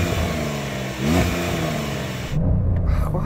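A Porsche 911 GTS engine revs loud and close, climbing and dropping in pitch across two throttle blips with a brief dip between them.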